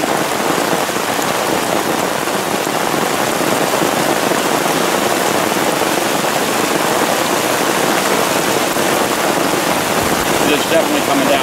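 Heavy rain pours down steadily and loudly, a dense, continuous wash of drops drumming on surfaces while filling buckets, with no letup across the whole stretch.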